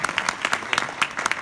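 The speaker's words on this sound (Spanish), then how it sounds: "Denle un fuerte aplauso a Víctor Islas, que está con nosotros." An audience claps for a keynote speaker at a Meet Magento 2018 ecommerce conference, a brief burst of scattered, fairly close hand claps with irregular rhythm.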